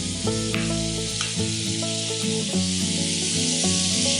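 Butter for shrimp sizzles in a pan, a steady high crackling hiss running beneath prominent melodic background music throughout.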